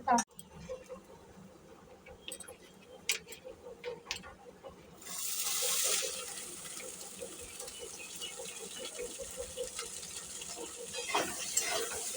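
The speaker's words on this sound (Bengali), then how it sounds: "আলুটা ভাজা ভাজা হয়ে গেছে" Potatoes fry in a pan in a home kitchen, a low bubbling sizzle with scattered stirring clicks at first, then a louder, steadier broadband hiss takes over and continues to the end.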